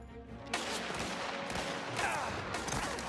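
Rapid bursts of gunfire ring out in the crime game Mafia: The Old Country, loud and dense, in repeated volleys with sharp onsets.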